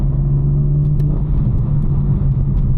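BMW with a 6-speed manual gearbox driven fast on a road, a loud, steady low engine drone and road rumble heard from inside the car, with no talk.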